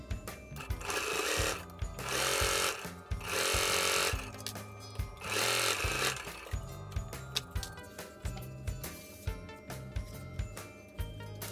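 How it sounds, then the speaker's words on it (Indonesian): A sewing machine stitches the fabric pocket of a padded laptop bag in close, loud runs of rapid mechanical whirring. The runs break off, and slower single stitch clunks follow. "lipat kain kantong tepat pada pinggir foam, kunci dengan jarum, lalu jahit kembali."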